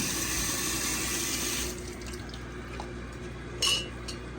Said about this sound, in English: so I hooked up my aquarium line, filling it up